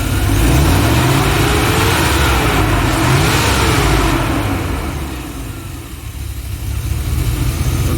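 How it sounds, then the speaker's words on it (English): A car engine revs loudly under applied throttle during an airflow sensor check, its pitch climbing, easing off around the middle, then building again, continuous and close with no talking. "I'm going to give this some throttle, so that should increase."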